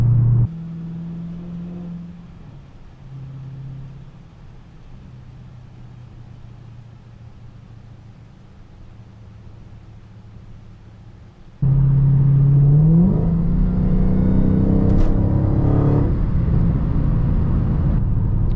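A Dodge Hellcat in track mode rolls along with a low, steady engine rumble, then its engine swells loudly with a rising note toward the end, heard close and alone.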